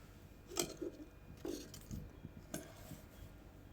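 A metal wok (cheenachatti) is set down on a stove, giving a few soft clanks and clinks of metal in a quiet kitchen, brief knocks spaced a second or so apart.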